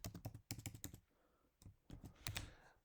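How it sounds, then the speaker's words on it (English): Typing on a computer keyboard, quick bursts of close, crisp key clicks in two rapid runs separated by a short pause, quiet overall. "So click here and type down your username, type down your password,"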